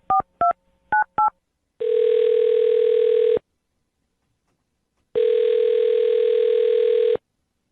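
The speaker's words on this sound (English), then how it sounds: "I'm going to dial his phone number right now, get him on the phone" Touch-tone phone being dialed: four quick keypad beeps in pairs, then two long steady ringback tones separated by silence, clear and close with no talking.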